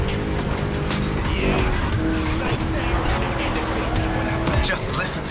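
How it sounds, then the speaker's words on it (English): A V8 car engine roars continuously in The Crew Motorfest, its chunky, deep pitch shifting through gears, with a brief tire squeal near the end. "Just listen to that V8 like a chunky, down-tuned guitar riff"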